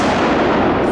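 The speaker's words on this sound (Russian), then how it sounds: "Петарда, а!" A firecracker goes off in a tunnel under a metro bridge, one very loud, close blast that fills the whole moment with harsh, ringing noise.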